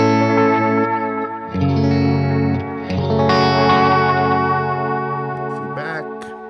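Electric guitar through an Echo Puss analog delay pedal with the tone control turned all the way up, sustained chords and notes trailing into warm, repeating echoes, loud and alone.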